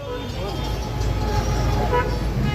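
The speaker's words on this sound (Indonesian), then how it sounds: "Di Mesir ini sangat mudah bunyi klakson, itu sangat mudah berbunyi ya." Car horns honk in busy Egyptian traffic, with short toots rising above the steady rumble of engines and road noise.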